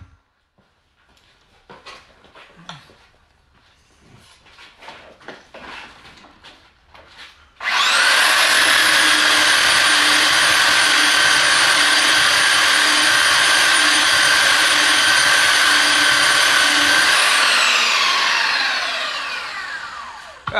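A power sander runs on the end of a wooden craft table, starting abruptly after a few quiet handling knocks and holding a loud, steady high-pitched whine for about ten seconds before winding down; close and alone, without speech.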